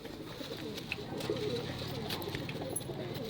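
A pure white Giribaz pigeon coos softly amid a busy background of other birds and low murmuring, with faint voices nearby.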